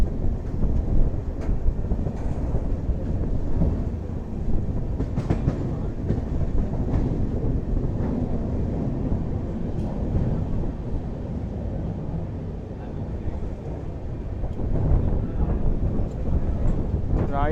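The 12677 Intercity Express from Bengaluru rolls toward Ernakulam with a steady onboard rumble and rhythmic clickety-clack of wheels over rail joints, continuous and fairly loud with some wind noise.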